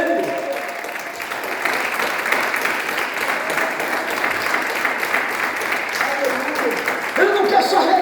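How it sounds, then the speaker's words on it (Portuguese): A church congregation applauds, a continuous wash of many hands clapping at an even level for several seconds, with a voice mixed in and the clapping briefly rising near the end. "Pode aplaudir a Ele."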